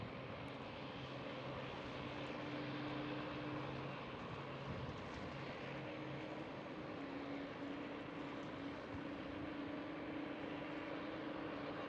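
A KLM Boeing 777-200ER lines up on runway 18 Left at Amsterdam Schiphol, a steady distant jet engine drone with a low sustained hum and faint tonal whine, unbroken throughout.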